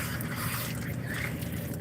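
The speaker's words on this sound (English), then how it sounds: "I'm just filling up the water for the chickens" Water trickling steadily while a chickens' waterer is being filled, a soft continuous liquid hiss with faint drips, fairly quiet and close with no talk over it.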